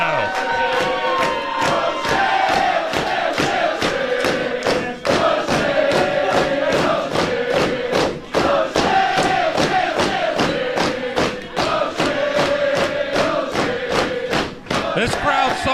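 A wrestling crowd roars and cheers continuously behind a wrestler, with rhythmic thuds and claps punctuating the noise throughout.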